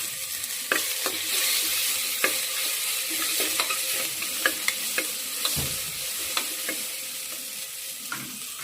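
Chopped onions fry in a pan with a steady, bright sizzle, while a spoon stirs them with repeated scraping taps throughout.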